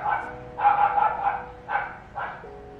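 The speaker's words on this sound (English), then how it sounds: "Dogs are barking outside, please hold." A small white fuzzy neighbor's dog barks outside in several sharp yapping bursts, with short pauses between them, at moderate distance and with no talk over it.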